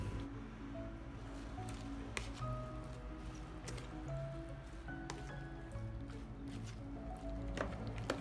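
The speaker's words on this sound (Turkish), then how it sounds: "kaşık yardımıyla hafifçe karıştırıyoruz" A spoon gently folds dried purslane leaves into a yogurt salad, producing soft, wet squishing and dripping sounds, faint and close, with no voices.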